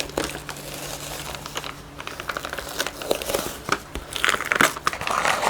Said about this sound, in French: c'est une belle galère pour arriver à décoller le carton